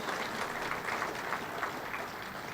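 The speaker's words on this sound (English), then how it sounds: "please join me in a round of applause and a thank you" An audience at a township State of the Township address applauds the mayor, a dense, steady wash of clapping that holds at an even level throughout without pause.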